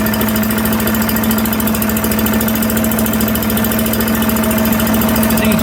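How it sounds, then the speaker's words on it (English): A small single-cylinder engine on a giant vac leaf blower idles loudly and close, a fast even chugging pulse with a steady tonal drone and vibration throughout, and no talking. "That's how fast the engine idles."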